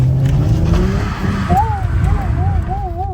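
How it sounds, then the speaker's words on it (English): A turbocharged Lexus GS300 with traction control off revs and drops through a couple of downshifts, its engine note rising in wavering, wailing sweeps, loud and close from inside the car, with people talking over it. "A couple of downshifts. Turn the traction off."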